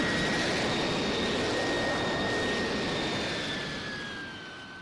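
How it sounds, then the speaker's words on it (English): Cirrus Vision Jet G2 Plus in a Roblox airshow, a steady simulated jet engine roar with a high whine that holds loud and even, then eases slightly toward the end. "This is the G2 Plus Cirrus Vision Jet."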